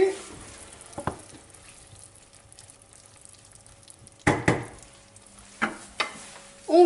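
Chicken simmering in beer in a pan, a quiet low bubbling broken by a few sharp clatters and scrapes as the lid comes off and the pieces are stirred.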